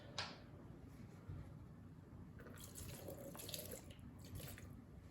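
Rubbing alcohol is poured over pruning tools during an orchid repot: faint trickling and splashing liquid with small clinks and drips, close but quiet.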